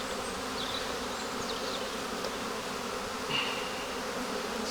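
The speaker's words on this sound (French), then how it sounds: "vous voyez quand même beaucoup d'abeilles" A dense, continuous hum of many honeybees buzzing together in a strong ten-frame hive, steady and close, with occasional individual insects whining past.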